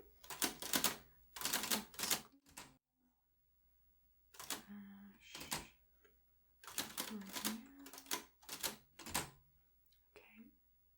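Vintage typewriter keys clacking in quick close bursts with pauses between runs, soft and intimate, with faint whispered speech and small mechanical clicks in the gaps.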